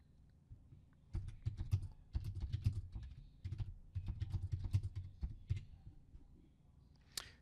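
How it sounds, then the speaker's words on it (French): Fingers typing on a computer keyboard while entering text in LibreOffice Writer: close, quiet bursts of rapid key clicks separated by short pauses, with one sharper key strike near the end. "pour revenir à la ligne, on appuie sur la touche Entrée"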